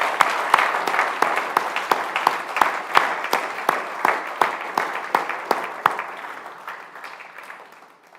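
Dense applause from an audience at Troop 40's Eagle Scout ceremony, greeting its newest Eagle Scout: steady, close clapping with sharp individual claps that thins and fades out toward the end.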